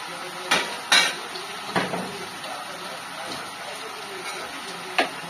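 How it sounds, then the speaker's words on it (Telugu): Chicken pieces stirred in a pot for chicken curry, with a few sharp metal clanks of the spoon against the pot over a soft background hiss, fairly quiet. "ఈ చికెన్ అయితే ఒకసారి కలిపేసుకుంటున్నాను."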